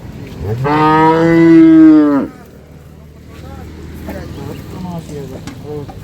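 Cow at a cattle market in Chattogram, Bangladesh, gives one long, loud, close moo lasting about two seconds, followed by quieter background chatter from people at the market.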